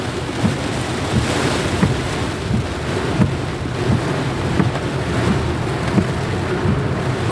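Dense, steady roar of heavy rain pouring down, loud and continuous, with occasional low thuds beneath the hiss.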